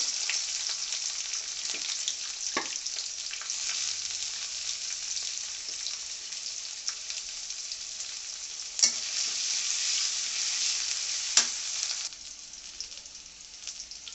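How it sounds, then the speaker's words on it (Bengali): Onions sizzle steadily in hot oil with garlic and garam masala, a loud, close, continuous hiss with a few sharp clicks of a spatula, fading somewhat near the end. "আমার পেঁয়াজটা হালকা ভাজা হয়ে গেছে"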